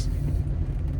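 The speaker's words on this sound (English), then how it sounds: "Oh my God, Lamborghini Urus." A Lamborghini Urus SUV rolls by with a deep, close engine rumble that stays low and steady through a brief moment.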